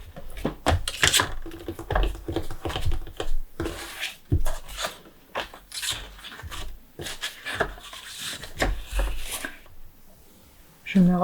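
A blade scrapes through box material being cut into strips for decorating, in repeated short rasping strokes close by with brief pauses between them, under occasional speech.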